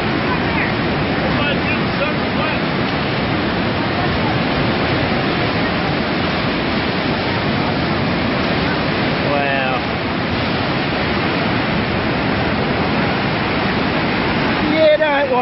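Niagara Falls thunders as a dense, steady roar of falling water heard from the walkway, close and loud, with wind buffeting the microphone.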